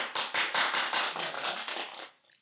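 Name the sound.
people clapping hands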